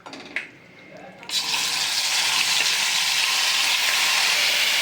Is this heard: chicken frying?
yes